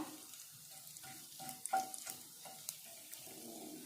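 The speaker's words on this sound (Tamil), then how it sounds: "சோம்பு நல்லா பொரியட்டும்" Quiet crackling and sizzling of fennel seeds frying in a little oil, with scattered small pops and a soft background hiss.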